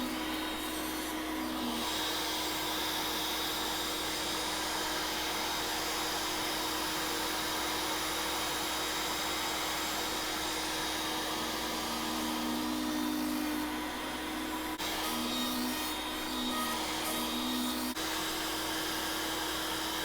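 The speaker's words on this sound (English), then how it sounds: "And we'll go ahead and route the rest of this board." Router cutting along a wooden board while making a gift card holder, a steady close whirring drone with slight shifts in pitch as it moves through the wood, continuous for the whole stretch with no talk.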